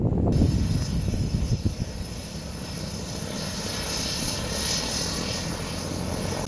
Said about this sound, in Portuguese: ele veio firme, cortando o vento e entregando aquele pouso clássico que só o Bandeirante sabe fazer.